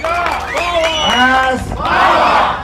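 A large crowd at a PAS party political rally roars, shouting and cheering loudly in overlapping voices. The sound swells close and strong throughout, with raised individual calls standing out from the mass of voices.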